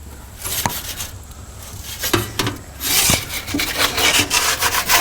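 A metal pizza peel scrapes and rubs against the hot stone floor of an Alfa wood-fired oven as a pizza is spun, giving close, rough scraping strokes with a few sharp knocks over the crackle of the fire.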